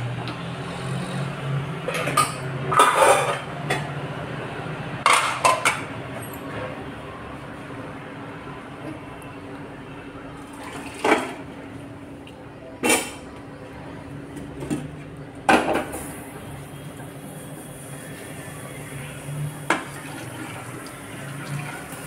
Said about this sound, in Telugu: ఇప్పుడు బజ్జాల గిన్నెలో పోసుకుందాం